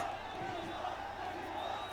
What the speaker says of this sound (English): So they are screaming, Jesus, Jesus.